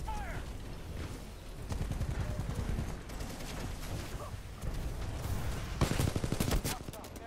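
Spitfire machine gun firing in the Titanfall 2 video game, heard as rapid bursts of automatic fire mixed with mechanical clanks, fairly quiet overall.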